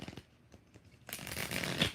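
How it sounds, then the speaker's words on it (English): Rider-Waite tarot deck being shuffled by hand, a few soft taps followed by a sustained riffling burst of card noise, close and fairly quiet. "All right, 3 shuffles."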